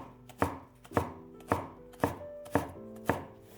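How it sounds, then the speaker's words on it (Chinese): A knife chops half a green onion stalk on a cutting board, giving six crisp, evenly spaced strikes about half a second apart. The chopping is close and clear, with no voices. "半截大葱给它切碎"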